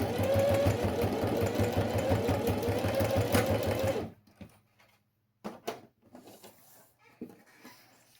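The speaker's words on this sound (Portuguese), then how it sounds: "é só uma costurinha aqui de reforço dos dois lados" A sewing machine runs a short reinforcement seam on both sides of a zippered fabric box pouch, a loud, close, rapid mechanical chatter for four seconds, then stops, leaving faint handling clicks and rustles.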